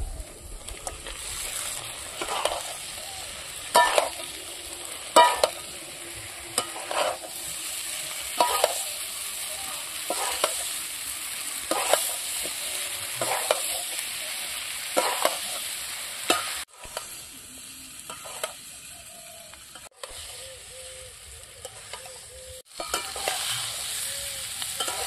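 Fried cauliflower and potatoes sizzling in spiced yogurt gravy in a pan, with a steady frying hiss broken by repeated scraping stirs of a spatula about every second, close and clear.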